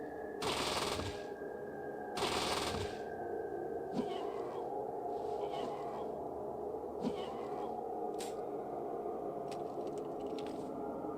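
SMG fire from the video game Fallout 2, a few short sharp bursts near the start over a steady background hum, then sparse faint single shots and clicks.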